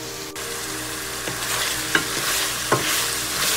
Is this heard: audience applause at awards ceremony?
no